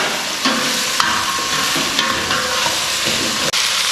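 Cut pumpkin pieces sautéing in oil with salt and turmeric for sambar, a dense close sizzle punctuated by a few sharp spatula taps against the pan.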